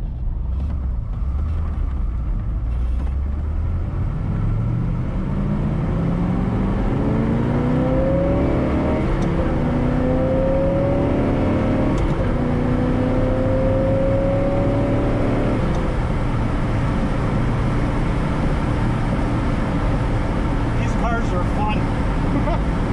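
A 1971 Corvette LT-1 engine revs loudly, its pitch climbing steadily through several gear changes over a constant roaring rumble, then settling back.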